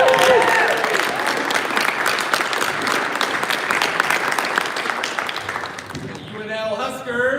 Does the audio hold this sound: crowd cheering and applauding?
yes